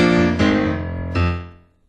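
Keyboard opening a classic blues riff with two loud struck chords, each ringing out and fading, the second arriving about a second after the first, with no one talking.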